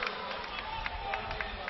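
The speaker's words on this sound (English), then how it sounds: "raspberry cheer on the far sideline because his team got one in their favor" High school football crowd at a Dorman (SC) vs. St. Francis (GA) game gives a raspberry cheer, a brief muffled rumble of many voices from the far sideline under a commentator's talk.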